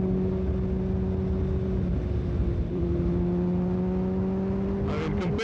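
A 2015 Kawasaki Ninja ZX-6R 636 motorcycle engine droning at a steady pitch while riding, with a brief shift in tone midway, close and continuous.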